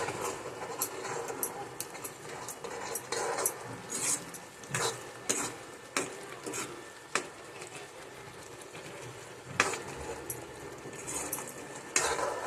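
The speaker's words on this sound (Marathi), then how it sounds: "थोडंसं मसाल्यामध्ये छानपैकी याला मिक्स करून घेऊया" Boiled peas are stirred into a spiced masala in a pan for paneer matar, bringing repeated scraping and clinking of a spoon against metal over a soft, steady sizzle, close and moderately loud without any talking.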